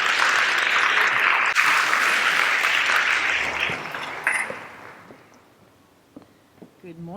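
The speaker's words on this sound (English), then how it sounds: "So, a round of applause for Dr." Audience giving a round of applause for a speaker at an entrepreneurship talk, loud sustained clapping that gradually thins out and fades, followed by a few footsteps and the start of speech.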